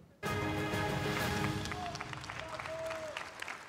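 Audience applause breaks out abruptly at a Polish political event in Stalowa Wola as the city mayor takes the stage, loud, dense clapping sustained throughout with a few faint voices mixed in.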